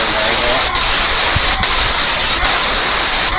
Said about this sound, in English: when I'm spraying my lap siding, you want to make sure you get underneath the lip